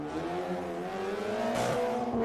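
Number 16 race car exiting the final turn to finish a solo autocross run at Daytona, its engine note steady and rising as it accelerates, heard from a moderate distance with faint tire noise and no talk.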